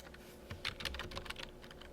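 Quiet, rapid keystrokes on a computer keyboard, a short burst of clicks that bunch together in the middle of the stretch over a faint room hum.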